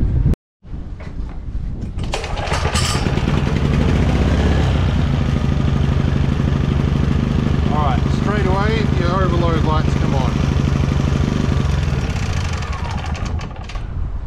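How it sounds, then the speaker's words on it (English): An XTM 22000W generator's engine cranks and catches, running loud and steady with a constant low hum for most of the stretch, with a brief silence at the start and a wavering tone midway. "see if it starts up"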